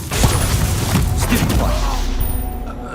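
A spell cast in the Hogwarts Legacy video game lands as a dense magical burst, a crackling, booming impact that stays loud and thick with clattering layers for about three seconds.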